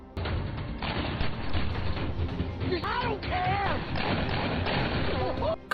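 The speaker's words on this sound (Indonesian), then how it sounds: "Ajax dan Jack saling membalas tembakan." Gunfire trades back and forth in a film showdown inside a workshop, dense repeated shots and crashes filling the whole stretch beneath music and scattered effects.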